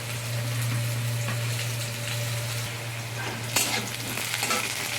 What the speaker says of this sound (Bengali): আলুটা আমার ভাজা ভাজা হয়ে যাচ্ছে।